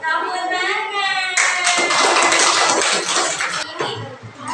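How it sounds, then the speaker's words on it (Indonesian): A classroom of students claps hands together in a dense, loud burst of clapping lasting a couple of seconds, with a voice heard before and after. "Tepuk tangan."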